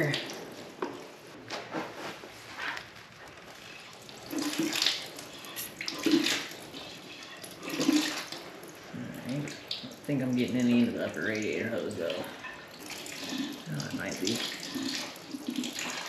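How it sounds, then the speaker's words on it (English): Water from a bucket is siphoned into the top of a Yamaha FZ motorcycle radiator, giving faint, uneven trickling and gurgling close by, with someone talking at times. "I got my siphon and a bucket of water, and I'm gonna run this in through the top of the radiator"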